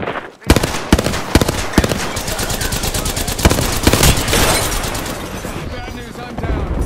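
Automatic gunfire in Apex Legends rattles in fast, loud repeated bursts over a dense, busy game mix, with spoken voices mixed in and the firing continuing for several seconds.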